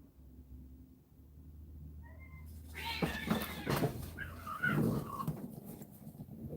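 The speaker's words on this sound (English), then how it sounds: "I think that was a skunk and a cat." A cat and a skunk fight outdoors at night. After a quiet start, a burst of yowls, squeals and scuffling cries breaks out midway and continues at moderate distance.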